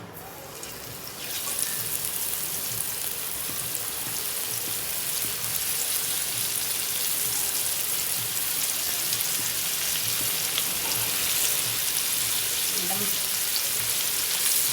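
Bombay duck fish fries on a hot griddle with a loud, continuous sizzle and spatter that swells after the first second and holds steady.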